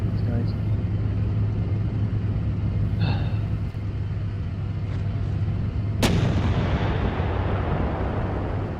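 Incoming fire in a Steel Beasts tank battle, with a Leopard 2A4 defending a town, brings dull distant booms and a sharp, loud impact blast near the end, all over a steady low engine rumble.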